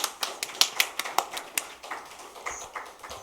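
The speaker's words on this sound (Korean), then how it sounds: "박수 한번 치겠습니다" A few people at a church worship service clap in a sparse, uneven rhythm, individual claps clearly separated and fairly close, tapering off after a few seconds.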